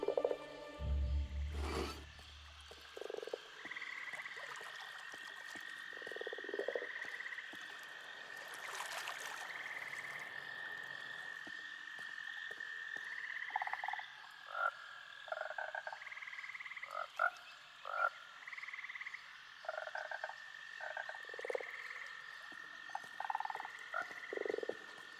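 Frogs croak in the muggy grassland of the Minecraft video game, a series of short repeated calls spread through the scene against a steady ambient backdrop, with a loud splash-like thump near the start.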